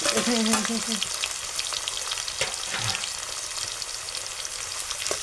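Sliced onions, tomato and garlic hit hot oil in a pan for a bitter gourd dish, hissing in a loud, continuous sizzle with crackling pops and a few stirring scrapes close up.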